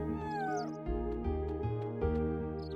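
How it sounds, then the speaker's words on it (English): A cat meows in the video game Chrono Cross, several short tonal mews repeating over a steady looping game music backdrop. "That's very similar to the Chrono Trigger SNES cat noise."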